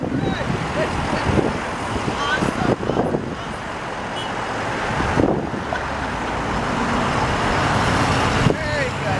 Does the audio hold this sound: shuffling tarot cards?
no